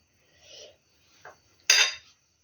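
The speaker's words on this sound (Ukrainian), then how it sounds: "І ложкою наберу цієї підливочки до перцю." A few soft metallic scrapes and clinks of a spoon scooping sauce from a pan of fried bell peppers, ending in a louder wet scrape, with quiet pauses between.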